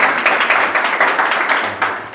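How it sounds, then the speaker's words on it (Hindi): An audience claps together in a steady, dense burst of applause at an event, continuous and fairly loud throughout with no voices standing out. "एक बार जोरदार ताली बजाइए"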